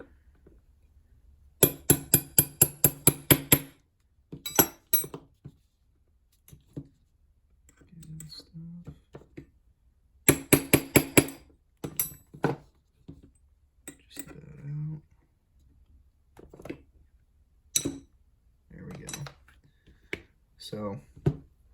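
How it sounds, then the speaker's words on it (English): A wrench taps the rear sight out of a Glock 19 replica handgun in two quick runs of sharp metallic knocks, each about eight strikes, separated by scattered clicks and handling noises in a quiet room. "I'll be using like a wrench to tap this bad boy out"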